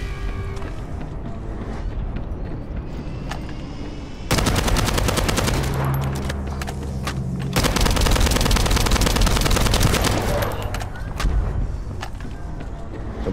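Rifle fire in the video game The First Descendant rattles in long, rapid automatic bursts, loud and close, with brief breaks between bursts and gritty mechanical clatter underneath throughout.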